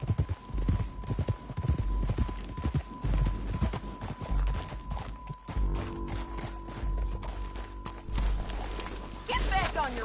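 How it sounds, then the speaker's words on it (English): Horse hooves clip-clop at a steady walking rhythm in Red Dead Redemption 2, moderately close, under a low game hum and occasional voices. "Get back on your horse, John."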